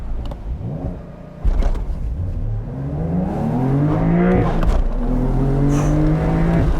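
A 2022 Porsche 911 Targa 4 GTS with a manual gearbox accelerating hard from a standstill on a wet road, engine note rising steeply through the revs with a gear change midway, loud and close from inside the cabin.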